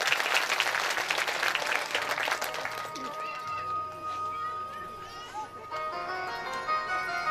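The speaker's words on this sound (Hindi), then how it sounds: "जोरदार ताली बजाओ" An audience at a Bhagavat katha religious gathering claps loudly and densely for about three seconds before the applause fades under a speaking voice and sustained musical tones.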